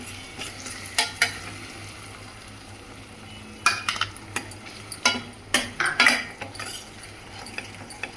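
Curd being stirred into potato kurma over a low flame, with repeated spoon scrapes and clinks against the pot over a quiet sizzle, the strokes growing busier toward the middle.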